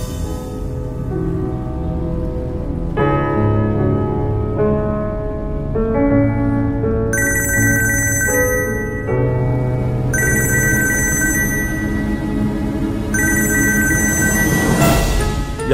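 A telephone rings over a speakerphone during a Tamil television serial scene, a steady electronic ringtone melody repeating in phrases for about fifteen seconds with no voices over it.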